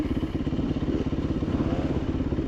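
A dirt bike engine putters at low throttle while riding over a rock ledge on a trail, a close, steady, rapid chugging pulse with light clatter from the bike.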